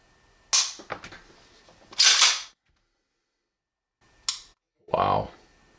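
A Tisas Stakeout 1911 pistol's trigger is worked for reset, giving a few sharp mechanical clicks in separate pairs with quiet gaps between them, close up and crisp.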